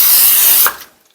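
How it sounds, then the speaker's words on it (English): Pam cooking spray hisses from a can onto risen bread dough, one loud close burst of spray lasting about half a second before cutting off into near silence. "I'm gonna go ahead and spray it with some Pam spray, lightly."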